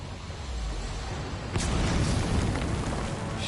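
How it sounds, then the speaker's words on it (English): Booming video game explosions during a live-streamed shooter, a broadband rumble that swells sharply midway and keeps rolling with scattered bursts, fairly loud with no talk. "there's explosions going on"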